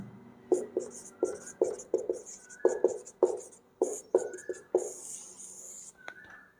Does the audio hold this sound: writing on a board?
yes